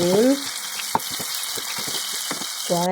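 Onions sautéing in a pan for sweet and sour chicken, a continuous sizzle with scattered utensil clicks, brief voice fragments at the start and end.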